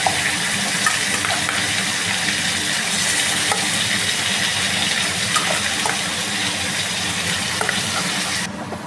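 Chicken pieces frying for rezala sizzle hard and continuously in a pan over lowered gas, a dense, loud crackling hiss that runs for the whole stretch and cuts off abruptly near the end.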